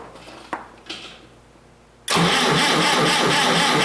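A forklift engine cranks over and catches, settling into a loud, steady running roar after a few quiet clicks, with its generator belt slipping.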